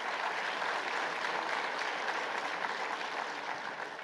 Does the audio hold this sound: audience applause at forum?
yes